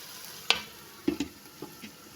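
Egg and potato curry masala cooking in oil in a covered pan gives a faint, low sizzle with a few sharp clinks and stirring knocks, close by and quiet, with no talking.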